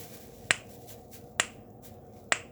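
A snapper fidget toy gives three sharp, close snaps spaced roughly evenly apart, each a crisp click standing alone over a quiet background.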